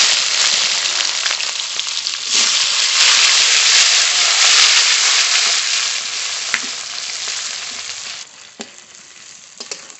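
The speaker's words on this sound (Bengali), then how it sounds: "পেঁয়াজটা একটু ভেজে নিয়েছি" Chopped onion fries in a pan with whole cumin and bay leaf, a loud, dense sizzle with occasional stirring scrapes that gradually settles quieter toward the end.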